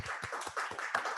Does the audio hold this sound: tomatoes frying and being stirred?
no